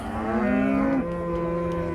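A cow with her calf at a livestock market in Van bellows a long, close, loud moo whose pitch drops partway through, with no talk over it.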